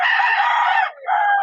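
A rooster at a backyard pet market in San Jose, Bulacan, crows loudly and close by, one long drawn-out call with a brief break before a final held note.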